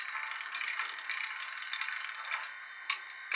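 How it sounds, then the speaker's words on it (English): A locomotive handbrake being wound makes a metallic rattling and clicking, ratcheting steadily up close, ending with a couple of sharper clunks. "It's a handbrake operation there"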